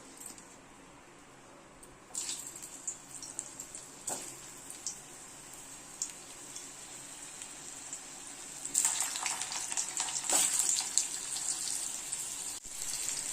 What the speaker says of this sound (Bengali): এটা আমি ঘিয়ের মধ্যে এখন ভেজে নেব।